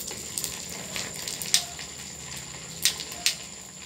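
Water mixed in used cooking oil boils inside a 10-inch burner chamber of a homemade used-oil stove, giving a constant low rumble with scattered sharp crackles and pops, several distinct snaps standing out.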